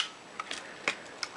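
A Pentax K film camera with its lens removed fires its shutter at 1/1000 second, giving a few faint, sharp mechanical clicks and ticks close up in a quiet room.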